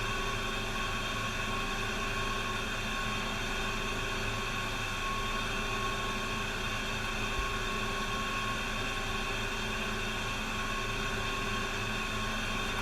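An air conditioner runs indoors, giving a steady, unbroken broadband hiss and hum that fills the whole stretch at an even level, with no one talking.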